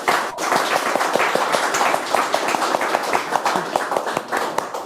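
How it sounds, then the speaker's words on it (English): A panel audience breaks into a round of applause, dense steady hand clapping filling the room at moderate loudness for several seconds. "could we have a round of applause?"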